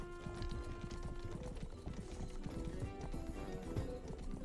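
Armored horse galloping in a medieval video game: a steady, rapid clip-clop of hooves under game noise and faint background tones, with no talking.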